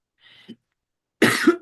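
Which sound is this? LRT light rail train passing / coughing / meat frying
coughing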